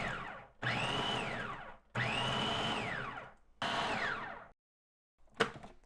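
A food processor motor whirs in three short bursts of a second or so each, coarsely chopping vegetables for Surti undhiyu, pausing between pulses, followed by a brief clatter at the end.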